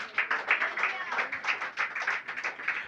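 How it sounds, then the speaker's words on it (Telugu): A church congregation claps together at the pastor's call, a fast, steady run of hand claps that fills the room and keeps a loose rhythm throughout. "చప్పట్లు కొట్టండి ఒకసారి."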